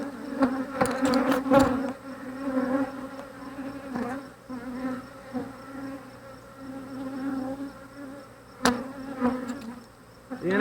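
Busy buzzing of many honey bees swarming close by during a Flow Hive inspection, a steady droning hum with a few louder passes near the ear.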